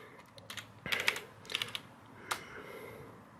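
A Corsair K70 Pro mechanical keyboard clacks under typing, sparse clusters of sharp keystrokes with a few louder taps, close up in a quiet room.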